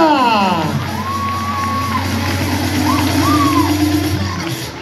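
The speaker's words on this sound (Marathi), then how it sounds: "टाळ्या." A school prize-giving audience cheers loudly and continuously, with children whooping and shouting over a dense crowd roar and occasional shrill whistle-like calls.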